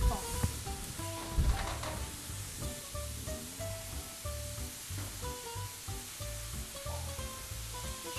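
Green pepper sizzles as it fries in a pan for a vegetable risotto, a steady close hiss with a few louder crackles and stirring scrapes early on.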